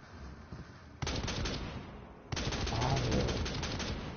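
Rapid bursts of automatic gunfire from a video game, loud and close, starting with a short volley and then a longer sustained stream of shots, with a faint voice underneath.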